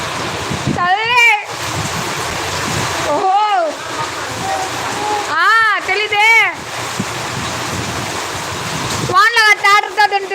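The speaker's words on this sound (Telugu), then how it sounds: "ఊరముల మెరుపులతో వాన అయితే బీభత్సంగా ఉంది" Heavy thunderstorm rain pours in a steady, dense roar, while voices talk loudly over it in several bursts.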